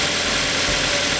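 A 2011 Toyota Avanza Type G engine idles close up, with a loud, steady, even hum and low rumble that continues throughout without any irregular knocks.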